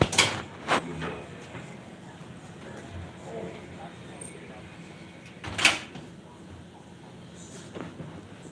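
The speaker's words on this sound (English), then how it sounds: "Oh, door." A door closes indoors with a couple of sharp knocks and thuds, one at the start and a louder one midway, against quiet room noise.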